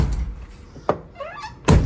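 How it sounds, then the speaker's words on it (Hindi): A Toyota HJ61's car door shuts with a sharp, solid thunk, followed by another heavy slam a moment later, both close and loud, with faint rustling between them and no voices. "साउंड सुने दरवाज़ा बंद होने की।"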